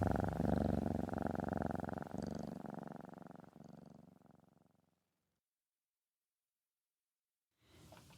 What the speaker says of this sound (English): I fell asleep to the steady rumble of his purring